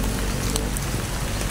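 Steady rain falls on an outdoor forest trail, a dense continuous hiss and patter without pause.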